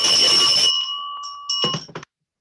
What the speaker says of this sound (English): let me open the meeting in our traditional way by ringing our bell.